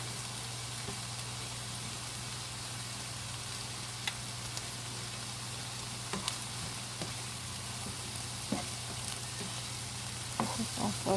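Broccoli and other vegetables sauté in a pan, giving a steady soft sizzle throughout with a low hum underneath and occasional light clicks and scrapes of stirring, louder near the end.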